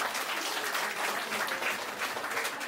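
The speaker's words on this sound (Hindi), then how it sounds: "जोरदार ताली बजाएंगे" Wedding guests applaud at a ceremony in Ranchi, Jharkhand, during the garland exchange: steady, dense clapping from a crowd, continuous throughout and fairly close.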